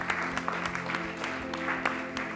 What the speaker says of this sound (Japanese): 大きな拍手しましょう。